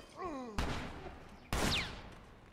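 Two loud, sharp gunshots in The Last of Us Remastered, about a second apart and close by, each decaying with a ringing tail over quieter game sounds.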